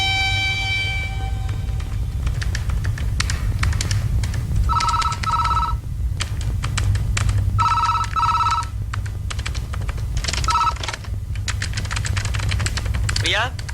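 An office telephone rings in short bursts of a bright electronic bell, three separate rounds spread over a steady low hum, with people talking in the room.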